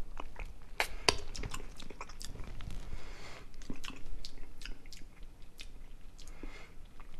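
Chewing a Justin's peanut butter and honey bar, with soft, moist bites and crunchy, sticky mouth sounds repeating close up, alone and without talk.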